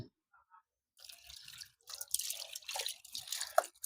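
Frogs being washed in water to strip off their slime before boiling, heard as close splashes and dripping with short wet bursts after a quiet start.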